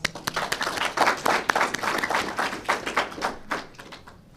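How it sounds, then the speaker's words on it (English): Scattered, individually distinct claps from a small audience at a community program announcement, irregular and fairly close, thinning out and fading toward the end. "And I think that's something to applaud."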